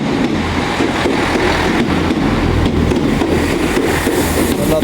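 A train rolling through Worcester Shrub Hill station, a loud, steady rumble with rhythmic wheel clatter across the rails throughout.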